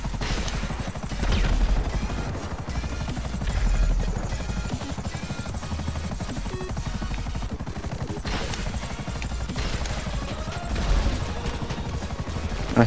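Gunfire in GTA V Online during a helicopter assault on a sky base, with Buzzard helicopter rotors beating loudly throughout and bursts of rapid shots mixed into the dense, continuous din.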